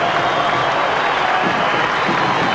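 Crowd roaring at a 1998 Australian football match between Fremantle and the Swans: a dense, steady wash of cheering and applause from a large stadium audience, loud and continuous throughout.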